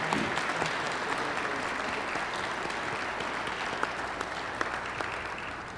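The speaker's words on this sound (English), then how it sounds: "a round of applause and congratulations for Ms. Diane Clemens, the recipient of the 2011 Freedom Award" Audience at an annual King Holiday celebration in Indiana applauding a Freedom Award recipient: dense, steady clapping from a large crowd that keeps a constant level for the full stretch without fading.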